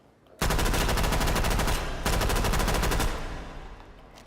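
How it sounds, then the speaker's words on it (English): A Model 1928 M1A1 Thompson submachine gun firing full auto in a VR game, two long loud rapid bursts separated by a short gap, the second tailing off into echo. "Model 1928 M1A1, just Thompson submachine gun for the rest of us"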